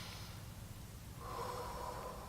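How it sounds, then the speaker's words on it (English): A deep breath drawn in through the nose during a seated toe-reaching stretch at an outdoor fitness course station, a steady airy inhale that swells and grows louder over about a second. "if I take a deep breath in"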